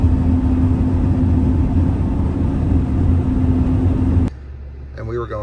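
Engine of a 2022 Winnebago Revel van at wide open throttle drones loudly and steadily with a strong low hum and road roar, then cuts off abruptly near the end as a voice speaks.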